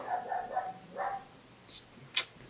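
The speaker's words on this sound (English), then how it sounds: "The dog won't stop barking." A dog barks in a short series of about four faint, distant yips followed by a high whimpering bark, with quiet room ambience between.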